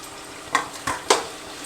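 Onions and green chilies frying in oil in a home kitchen pan, a low sizzle under three sharp spatula scrapes in quick succession.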